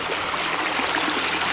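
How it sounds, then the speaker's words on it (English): Spring water runs into a pond through a pipe, a loud, continuous rushing flow with a gurgling texture and no voices. "So I have the water coming from here,"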